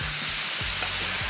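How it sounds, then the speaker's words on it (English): Beef strips sear in a hot pan while being stir fried, giving a loud, continuous sizzle with faint stirring scrapes, heard close and without any talk. "Spread that beef out because I want it to sear for a little bit before I start stir frying it"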